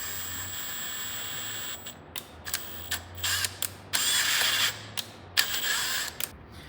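A tap cuts an 8-32 thread in a Briggs and Stratton engine part, heard as close ratcheting clicks and short scraping bursts in uneven turns over a constant high whine.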